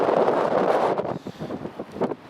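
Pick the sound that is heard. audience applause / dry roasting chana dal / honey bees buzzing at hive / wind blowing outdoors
wind blowing outdoors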